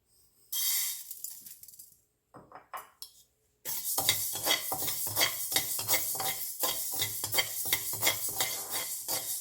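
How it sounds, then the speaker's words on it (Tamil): Fenugreek seeds dry-roasting in a pan for Jaffna curry powder rattle and scrape as they are stirred, with brief clattering bursts after a quiet start and then a steady run of rhythmic stirring strokes. "வெந்தயமும் நல்லா வறுபட்டு போச்சு."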